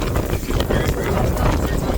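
Strong wind buffets the microphone in loud, rough gusts, a continuous roaring rumble with no clear voices.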